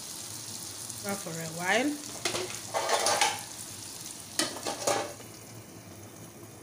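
Beaten egg fries in a pan for a cucumber egg sauce, sizzling steadily while it is stirred with bursts of scraping and clatter, and a voice speaks briefly over it.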